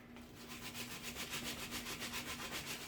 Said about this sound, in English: this sandpaper really does get rid of the grip